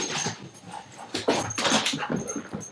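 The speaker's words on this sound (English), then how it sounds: "Sorry, my dog is being a stinker." A pet dog whimpers and whines close by in a run of short, high, uneven cries.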